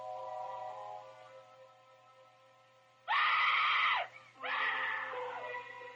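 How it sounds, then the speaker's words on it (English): A woman screams loudly in a film scene, two long, piercing screams separated by a short gasp, following a quieter stretch of low voices and a steady hum. "And then smash cut to Jessica Walter screaming her head off"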